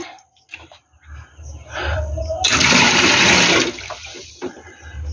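Water poured out of a bowl after washing leafy greens, a short rushing splash that swells and stops abruptly, close by, with faint clatter around it.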